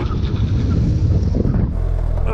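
A Lamborghini brakes hard during a brake test, a loud rushing engine and wind roar that cuts abruptly to a lower steady rumble as the car slows.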